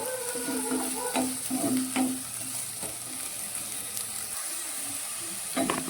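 Okra pieces frying in a pan give a steady, moderate sizzle with a few spatula scrapes and clicks spread through it, close by and with no talking.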